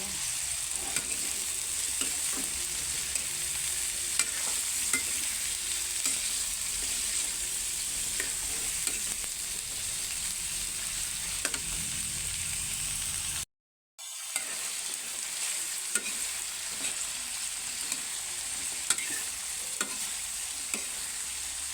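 Adobong sitaw, string beans in adobo sauce, being stirred in a frying pan with a steady sizzle and scraping utensil strokes throughout, broken by one brief dropout midway.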